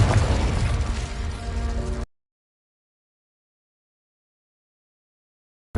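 A Confringo blasting spell goes off in a Harry Potter video game, a loud dense boom and crash lasting about two seconds that cuts abruptly to silence, with a brief burst returning at the very end.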